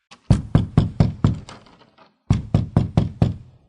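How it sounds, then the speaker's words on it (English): A door is knocked on in two quick rounds of firm, close knocks, six and then five, with a short pause between and no talking. "When he knocked on the door,"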